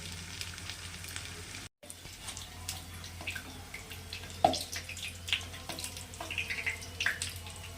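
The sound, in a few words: chicken patties deep-frying in oil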